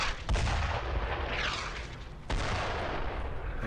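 Mortar bombardment in the World War II shooter Brothers in Arms: Road to Hill 30, with deep booming impacts and rumbling blasts, a sharp hit near the start and another midway, over a constant loud battlefield roar.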